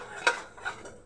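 A metal spoon clinks against a pot while roasted gram flour and green chilli are stirred into dal, two or three distinct scraping knocks over a quiet background, close and fairly soft.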